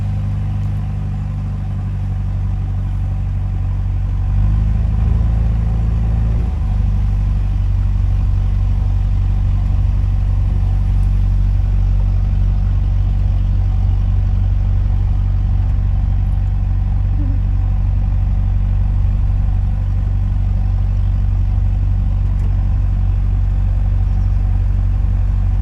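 A canal boat engine churns steadily at low pitch as the boat pushes through mats of pennywort weed on the Shropshire Union Canal, the drone swelling briefly near the start before settling into a constant heavy hum.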